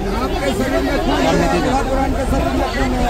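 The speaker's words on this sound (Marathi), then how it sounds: "मित्रांनो, गर्दी बघा किती आहे." Dense crowd chatter at a busy train station in Uttar Pradesh, a steady loud babble of many voices close around, with no gaps.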